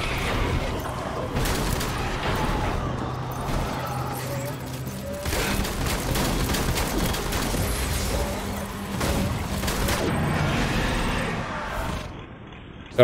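Shotgun and other gunfire in the video game Death Stranding, a dense series of loud blasts and mechanical clatter over game sound, with someone talking over parts of it.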